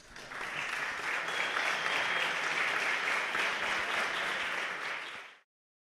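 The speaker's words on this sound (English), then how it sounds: "it's so nice to see the fans applaud you live in person." A live audience at the 2022 FIDE Candidates chess tournament applauds in a sustained, even wash of clapping from many hands, moderately distant, holding steady for about five seconds before cutting off.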